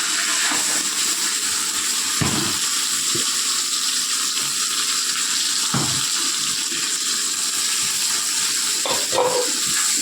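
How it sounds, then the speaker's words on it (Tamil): Ground tomato frying in a pan with sautéed ginger and garlic, a steady, close hissing sizzle with a few brief clatters of a utensil. "அது கொஞ்சம் வதங்கின அப்புறம் நம்ம அரைச்சி வச்ச தக்காளி போட்டுக்கலாம்."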